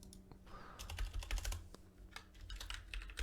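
Quick, irregular keystrokes on a computer keyboard, heard close and clear in bursts with brief pauses, alongside a low background hum.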